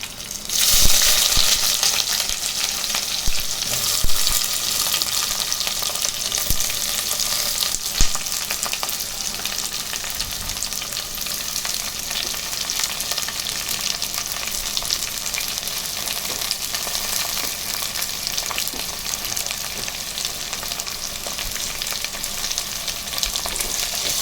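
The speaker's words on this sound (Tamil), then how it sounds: "கருவேப்பிலை பொறிஞ்சிச்சு வெங்காயம் போட்டுக்கலாம்" Onions and curry leaves frying in hot oil in a pan for a radish chicken kurma, giving a continuous loud sizzle with occasional stirring clicks and scrapes throughout.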